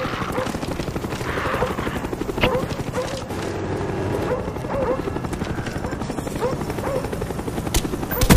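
An attack helicopter in Call of Duty: Black Ops on the Stockpile map thuds steadily overhead, its rotor chop continuous and fairly loud amid faint background game noises.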